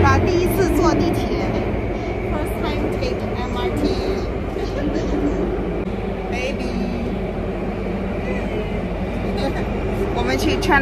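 Interior of a Singapore subway train in motion, a steady loud rumble and rail hum with rhythmic clatter running throughout, while people talk faintly in the carriage.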